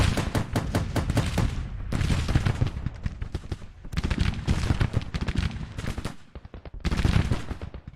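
Cannon and musket fire in the Civil War strategy game Grand Tactician: The Civil War, loud booming volleys and rapid crackling shots in repeated waves, dense and close, with brief gaps between bursts.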